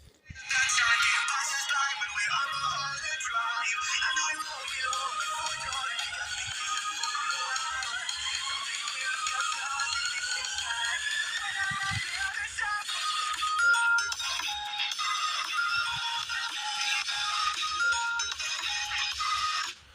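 A song plays through an Infinix Hot smartphone speaker, thin and tinny with little bass, a steady melody running for the whole stretch without anyone talking.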